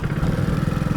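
A motorcycle engine chugging in a quick, even putter at close range while someone learns to ride, loud and steady with no voices over it.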